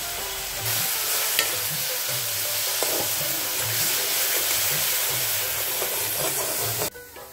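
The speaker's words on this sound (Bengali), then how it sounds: "মশলাটা কষানো হয়ে গেছে" Spice masala of green chili paste, onion paste, nigella seeds, salt and turmeric fries in a pan for mustard puti fish curry, a continuous sizzling hiss with rhythmic scraping stirs, cutting off abruptly near the end.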